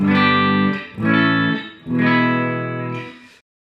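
Sustained electric guitar chords ring out cleanly through a Fender Twin Reverb '65 reissue tube amp, three strummed chords each left to sustain and decay, loud and up close.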